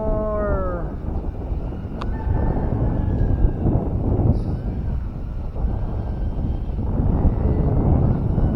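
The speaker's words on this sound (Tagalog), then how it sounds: "grabe nga naman ang hangin dito" Strong wind roars steadily against the microphone with a broad, buffeting rumble throughout; a faint animal-like whine at the very start.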